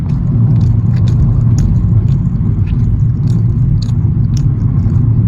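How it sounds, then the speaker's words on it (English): Sausage is chewed right against the microphone, a crunchy, wet biting rhythm layered over a constant loud low rumble, probably from a car interior. "Didn't mean to chew in your ear."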